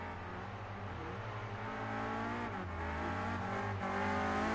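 A Renault Clio Cup race car at full throttle with its rear stepping out, the engine note rising and falling loudly and continuously as tires squeal briefly through the slide.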